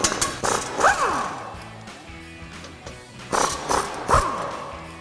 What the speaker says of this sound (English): we'll grab an 18mm socket to pop these out